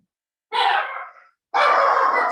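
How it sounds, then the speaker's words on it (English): A dog lets out two loud, rough, close bursts of barking at a delivery man, each about half a second to a second long with a brief silence between. "Excuse my dog, the delivery man."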